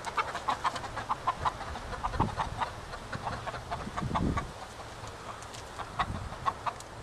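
Chickens cluck repeatedly in short, close bursts near a rabbit on a farm, with a couple of soft low thumps and rustles between the calls.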